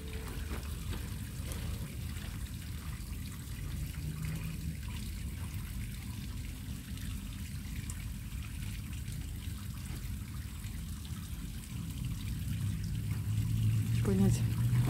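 Water trickles and pours steadily in a small grotto fountain, a constant soft wash of flowing water with a low murmur beneath it, fairly close and continuous throughout.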